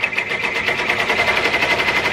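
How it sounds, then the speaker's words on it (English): Embroidery machine stitching out a placement line through cutaway stabilizer for a pan handle potholder, a loud, fast, steady mechanical needle rhythm running close and alone. "it's going to stitch out the placement line"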